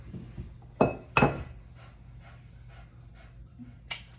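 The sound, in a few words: cracking two eggs into croutons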